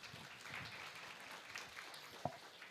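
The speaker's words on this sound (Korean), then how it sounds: "다시 한번 큰 박수 부탁드립니다." Faint, distant audience applause at a Korean education forum on AI and digital literacy, a soft, even patter of many hands welcoming a keynote speaker, with one sharper knock near the end.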